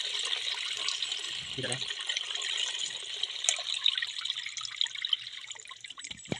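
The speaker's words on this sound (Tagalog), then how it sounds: "lagyan na natin tong gata ng niyog." Coconut milk pours steadily into a cooking pot for maja blanca, a continuous liquid splashing and trickling heard close up, with a brief spoken word near the end.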